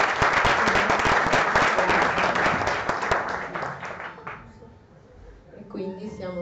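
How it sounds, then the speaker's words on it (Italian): Audience at an art community event applauding for Elisa, a loud dense round of clapping that fades after about four seconds, followed by a voice speaking. "Elisa, un grande applauso"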